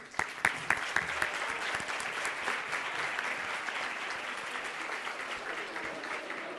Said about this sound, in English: please join me in a big round of applause to both teams